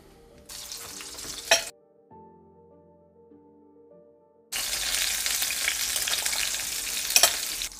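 Tomatoes sizzle and fry in hot oil in a pan, a loud, close crackle that drops away for a couple of seconds of quiet, then returns just as strong, with no talking.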